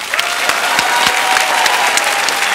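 A studio audience at a Thai cooking competition cheers and claps loudly and steadily, with sharp individual hand claps standing out from the dense applause throughout.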